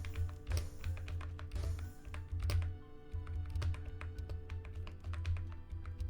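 Fast, uneven clacking of keys on a cheap $7 computer keyboard during a game of Tetr.io, with loud bursts of presses and quieter taps close up, and no talk.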